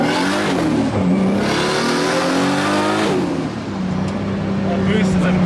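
A boosted street car accelerates hard, its engine climbing steadily through the revs with rising pitch, then shifting and pulling again, loud and close from inside the car.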